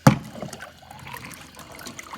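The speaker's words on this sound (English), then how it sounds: "Charlie, put your scoop in and just mix it around from the bottom" A scoop stirs beet pellets around from the bottom of a bucket of water, starting with a sharp splash, then soft, steady sloshing and trickling close by, with no talk.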